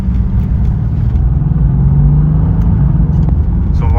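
Deep, steady engine rumble of a Mercedes-AMG GT S sports car heard from inside while driving, loud and constant with a slight rising tone midway.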